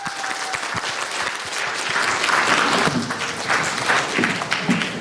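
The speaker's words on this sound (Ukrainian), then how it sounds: "Я вам поаплодую за те, що ви дожили до другого дня" Audience applause at a conference session for internet providers, a dense burst of many hands clapping, loud and close, with a few voices mixed in and a bit of tapping.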